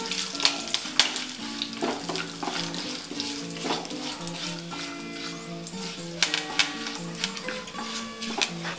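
Peanuts, almonds and pepper fry in hot oil with curry leaves in a pan for a crunchy poha dish, giving a steady close sizzle scattered with sharp crackles and pops, with soft music underneath.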